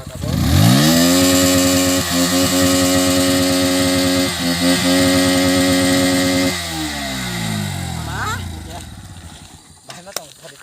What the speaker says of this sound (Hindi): ये न्यू बाइक है इसलिए थोड़ा मतलब आवाज़ बहुत ही अच्छा रहा है